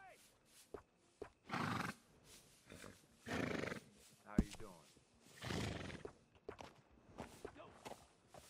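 Horses whinny and neigh in the Red Dead Redemption 2 video game, several loud bursts spaced apart amid footsteps and background game noise, with voices talking between the calls.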